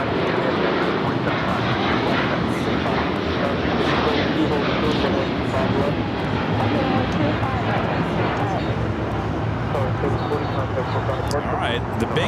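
A Qantas airliner takes off at Los Angeles International Airport, its jet engines producing a steady, broad roar heard from a distance, with faint chatter in the background throughout.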